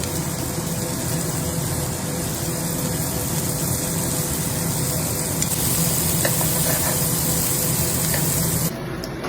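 Onions sizzle in melted butter in a frying pan, with garlic added just before: a steady, loud crackling hiss that runs unbroken from start to finish, with no voices.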